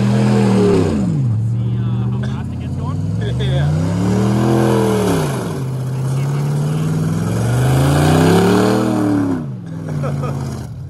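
A Nissan Altima on a test run accelerates repeatedly, the engine note climbing through each gear in rising sweeps and dropping at the shifts, loud and close, with a few voices heard faintly underneath.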